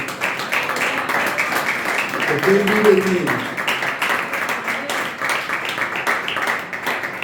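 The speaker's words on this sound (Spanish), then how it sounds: "Denle un fuerte aplauso al Señor." Church congregation clapping in praise, a dense steady patter of many hands filling the room, with a single voice speaking briefly over it midway.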